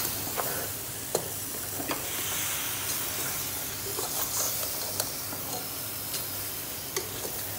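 Chopped mango being stirred into masala in a hot pan for a sweet mango curry, a steady sizzling hiss punctuated by sharp spoon scrapes and clicks at irregular intervals, close up, with no talking.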